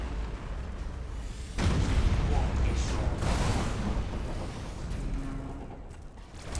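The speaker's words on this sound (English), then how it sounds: "I would love to see this explosion. It's gonna happen momentarily." A starship blows apart in a space battle in Battlefleet Gothic: Armada 2, a sudden loud boom followed by a rumbling roar that slowly fades, with game sound effects layered on top.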